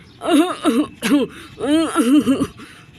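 A man coughs violently after drinking coffee, a close, performed run of harsh, voiced hacking bursts in quick clusters over three seconds.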